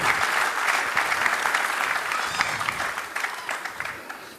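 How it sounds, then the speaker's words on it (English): A convention audience in Dallas, Texas applauds the local chapter with dense, loud, sustained clapping for several seconds that tapers slightly toward the end. "I would like everybody to give a big round of applause to Dallas chapter"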